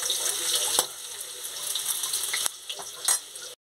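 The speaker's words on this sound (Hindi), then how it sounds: "लहसुन डाल के भून लेंगे अच्छे से।" Garlic frying in hot oil in a pan for a besan pakoda curry, a loud, close, continuous sizzle broken by a few stirring scrapes before it cuts off.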